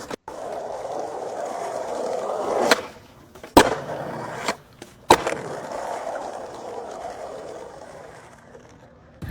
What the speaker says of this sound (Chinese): 滑板和地面碰撞的声音